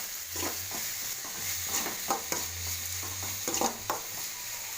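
Coriander leaves sautéing with tomato in a pan for vegetable vermicelli upma, a quiet sizzle under repeated soft scrapes and stirs of a spatula, with a faint low hum in the background.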